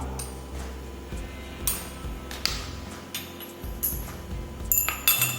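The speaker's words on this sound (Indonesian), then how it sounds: "Kita tutup. Kemudian kita kocok supaya terekstrak." A glass container holding hexane and water is capped and shaken, giving a run of sharp glassy clinks and ticks at close range, irregular and fairly soft, with no talking.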